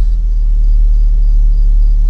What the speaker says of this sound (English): let's start the car up and see if it makes any difference